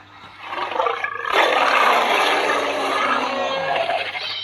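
A T-rex skin in a video game lets out a loud, drawn-out, rumbling dinosaur roar that swells quickly and holds for several seconds, heard up close with no talking.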